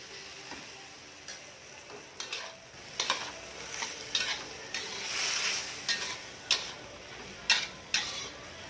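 Water poured into a pan of vegetables and fish cooking on the heat, with a steady sizzle and bubbling under scattered ticks and clinks of a utensil against the pan.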